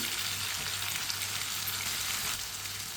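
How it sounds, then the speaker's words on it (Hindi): Finely chopped tomatoes and green chillies fry in a hot pan for a white chana curry, a steady, dense sizzle that holds even and loud throughout with no voices. "दो बारीक कटे हुए टमाटर डाल लेंगे। 2 सब्ज़ मिर्च बारीक कटी हुई"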